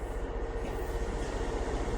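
Machinery on a rental combine harvester switched on during harvest, a steady, loud mechanical rumble and whir running continuously without talk.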